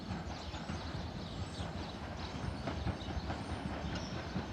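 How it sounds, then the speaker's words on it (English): A Southeastern passenger train, Class 375 unit 375623, runs into Tonbridge station on the London Charing Cross to Dover Priory service, giving a steady rumble with rhythmic wheel clicks over the rails. "approaching now is the 1247 Southeastern service from London Charing Cross to Dover Priory"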